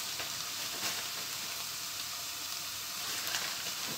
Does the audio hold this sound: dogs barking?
no